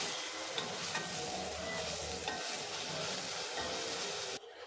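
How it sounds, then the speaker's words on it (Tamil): Onions sautéing in a pan with a little rock salt for an egg gravy, a steady close sizzle with bright crackles and occasional stirring scrapes, no talking. "வெங்காயம் வந்து நல்லா வதங்கணும் ஒரு ரெண்டு நிமிஷம் நல்லா வதங்கணும்"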